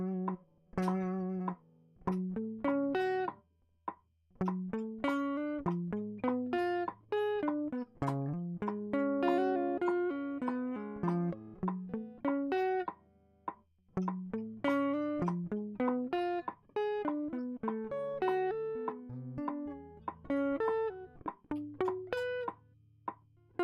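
A fast, intricate electric guitar riff plays alone, with clean plucked notes in quick rhythmic runs and short pauses, close and steady.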